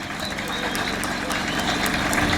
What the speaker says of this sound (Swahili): Makofi kwa shehe.